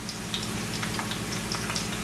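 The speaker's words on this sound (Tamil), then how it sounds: "ஜஸ்ட் லைட்லியாக பொரிச்செடுக்கிறதான்" Shrimp lightly frying in hot oil for a drumstick shrimp kulambu give off a steady, close sizzle with scattered small crackles and pops throughout.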